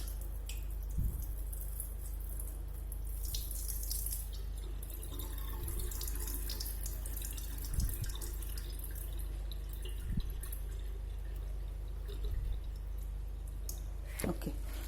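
Tap water runs into a bowl while tapioca pearls (sabudana) are rinsed, a soft steady trickle broken by occasional splashes and drips from handling the pearls.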